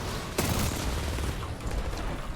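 Gunfire in a competitive Apex Legends match: a loud burst of rapid shots erupts near the start, then continues as dense, rattling fire under a constant background din.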